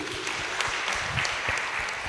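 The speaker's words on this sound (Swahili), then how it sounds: "Tuwapigia makofi deacons wetu" A church congregation at a Kikuyu PCEA service claps for its deacons, with steady, dense applause filling the room for a couple of seconds and faint voices underneath.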